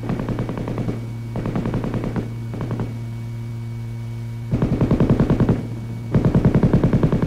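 An M60 7.62 mm gas-operated, belt-fed machine gun fires in several sustained automatic bursts, rapid evenly spaced reports over a steady electrical hum, with short gaps between bursts.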